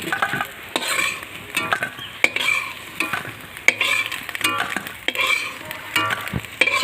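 Prawn and chicken pakoras fry in hot oil with a steady, dense sizzle. Loud clicks and scrapes from a stirring utensil break in at irregular moments, and no voices are heard.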